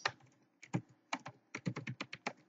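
Close, brisk keystrokes on a computer keyboard as a sentence of text is typed into an HTML body tag, landing in uneven clusters with brief gaps between words; no voice is heard.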